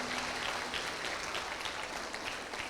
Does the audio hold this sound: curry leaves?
no